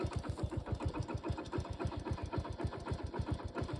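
Motorcycle engine running with a steady, rapid pulsing beat, loud and close throughout, sounding like it has just started and is ticking over at idle.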